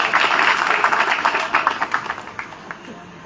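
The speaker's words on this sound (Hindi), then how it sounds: "जोरदार ताली।" Loud crowd applause fills a village gathering honoring Tejaji Maharaj, dense and steady at first, then thinning into scattered individual claps as it fades out.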